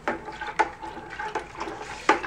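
A spoon stirs sugar water into beer during bottling, giving soft liquid swishes and a few sharp clinks of metal against the vessel at irregular intervals, close and quiet.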